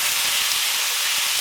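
Beef searing in a hot pan for Beef Diane gives a steady, loud, broadband sizzle and hiss that runs unbroken and close throughout, with no talking.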